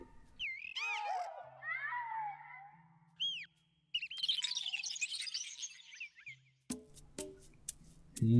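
Bird-like creatures from the video game Spore chirping, with a string of rising and falling tweets and trills close up and fairly loud, followed by a burst of sharp clicking game sounds near the end.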